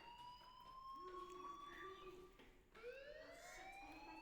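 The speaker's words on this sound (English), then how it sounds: "Hey, do you hear that fire alarm?" Fire alarm in the Life is Strange video game, a faint rising and wailing electronic siren tone sweeping up twice under the game's ambient sound.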